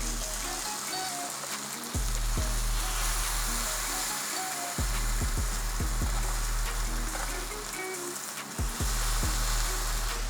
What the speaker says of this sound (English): Drop down some sliced tomatoes. Nice and thick.